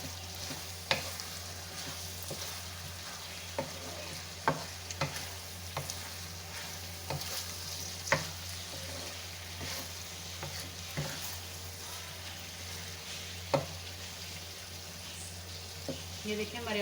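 A spoon stirs mixed vegetables with potatoes, peas, dried fenugreek and coriander in a pan, soft sizzling under occasional clinks and scrapes against the pan.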